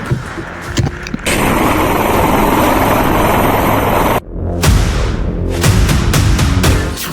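Military chopper airlifting soldiers injured by an IED in the Saranda forest, heard as a loud, steady rotor roar close by, cut off abruptly midway and then returning with rhythmic thumping, no talk over it.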